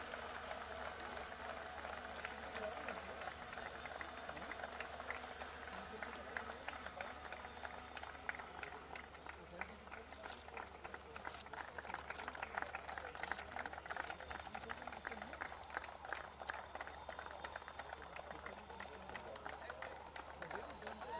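Crowd applause for the new champions of an under-17 boys' Subroto Cup international football tournament final, a steady dense wash of clapping running throughout, with voices chattering over it.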